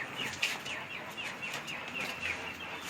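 Young Mediterranean quail, about a month old, give short repeated high chirps at a fairly even pace against a steady background hiss, nearby and with no one talking.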